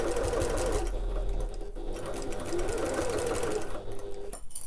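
Sewing machine basting fabric at a quarter-inch seam allowance, a close, steady mechanical whirr running almost without break, easing briefly near the end.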